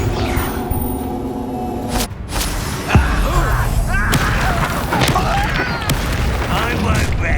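Confringo blasting spells exploding in a Hogwarts Legacy duel: a sharp crack and booming blast, then rolling crackling explosion noise under shouted spell casting and battle voices.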